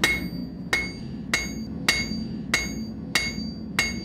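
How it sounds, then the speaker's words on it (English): A blacksmith's hammer strikes metal on an anvil seven times at a steady, unhurried pace, each blow a bright ringing clang that decays quickly, close and alone. "There's a lot to a hammer blow."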